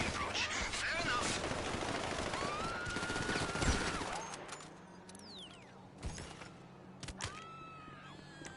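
Rapid bursts of gunfire in GTA V Online rattle through the first half, then fade to scattered shots and effects, with a voice talking over it.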